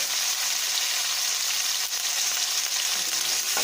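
Tomatoes fry in a pan of oil while making fish gravy, a loud, close, continuous sizzling with faint stirring underneath and no talking.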